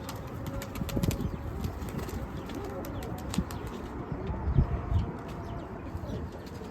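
A pigeon flaps its wings in short bursts near the handler, with soft coos and faint chirps from other birds around, the whole scene quiet and somewhat distant.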